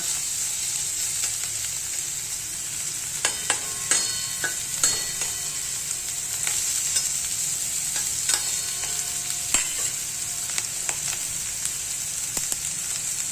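Bitter gourd pieces sizzle steadily in a pan as they fry crisp, with scattered clicks and scrapes of stirring cutting through the continuous hiss.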